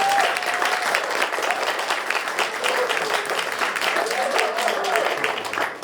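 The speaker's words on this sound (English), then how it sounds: "if everyone just wants to give her, her and her staff an applause" A room full of people at a community outreach and recovery discussion panel applauding steadily, with dense, sustained clapping that carries on without a break and tails off slightly at the end.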